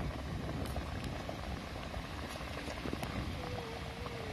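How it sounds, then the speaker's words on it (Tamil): Ragi vadai deep frying in hot oil during rooftop village-style cooking: a dense, continuous bubbling sizzle fills the whole stretch, close and even, with a few faint clicks and no voices. "பாருங்க எவ்வளோ அருமையாக பொரிஞ்சிட்டு இருக்குதுன்னு"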